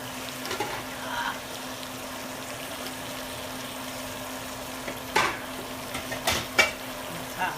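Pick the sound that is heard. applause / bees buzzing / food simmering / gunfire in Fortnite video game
food simmering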